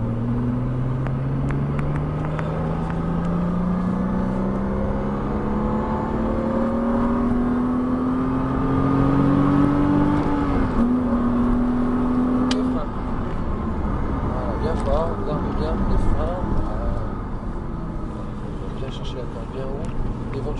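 A Porsche Cayman S on a race track, its engine droning loud and close inside the cabin and rising steadily in pitch under acceleration before shifting down, while someone talks over it throughout.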